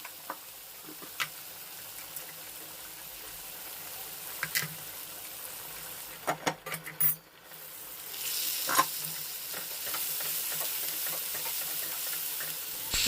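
Dried prawns and curry leaves fry in a pan while a spoon stirs them, giving a soft sizzle with scattered clinks and scrapes that swells into a louder, steady hiss partway through, close by with no talking.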